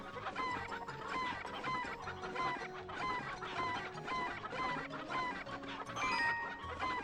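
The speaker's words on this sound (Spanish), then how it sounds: "¿Y cómo metemos las gallinas?" Chickens in the Breath of Fire IV game on PlayStation cluck continuously as a flock, with rhythmic repeated clucks and occasional crowing over a steady, busy game soundtrack.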